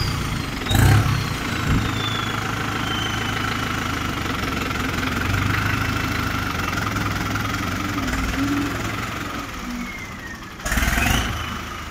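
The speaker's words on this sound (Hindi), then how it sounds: "दोस्तों क्या शानदार आवाज़ है ट्रैक्टर की।" A heavy modified Fiat competition tractor engine in Punjab idles steadily with a deep, knocking low rumble, briefly revving louder near the start and again near the end.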